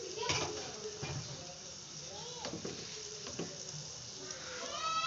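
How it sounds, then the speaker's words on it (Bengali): Green chillies and greens frying in a pan of oil, with a steady sizzle and occasional stirring scrapes, while children's voices and chatter drift in the background. "এখন আমি শাকগুলো দিয়ে দেব, শাকের সাথে একসাথে কষিয়ে নেব মরিচটাও।"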